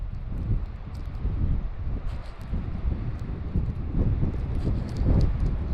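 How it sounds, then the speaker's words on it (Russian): Strong wind gusts buffet the microphone outdoors at a lake during a warm spring front, a loud rumbling roar swelling and easing in waves, with faint scattered ticks of movement. "Ветрюган сегодня еще сильнее, чем в прошлый раз."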